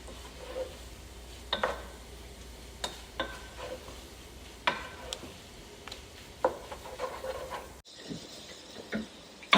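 Chili of kidney beans and tomato sauce cooking in a pot, with a steady low simmer broken by scattered clinks and scraping stirs, fairly close and with no talk.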